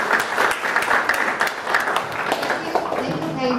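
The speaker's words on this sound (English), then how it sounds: "let's give them a round of applause" Audience applause at a conference session, a steady, fairly loud wash of many hands clapping throughout.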